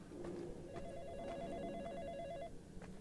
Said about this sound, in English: Where's the phone? Let's answer the phone.